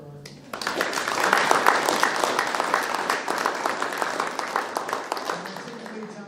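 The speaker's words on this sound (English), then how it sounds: "So, a round of applause for our..." A crowd at a school board meeting applauds honored graduates, the clapping rising quickly to a steady, moderately loud roar and easing off at the end, with some voices underneath.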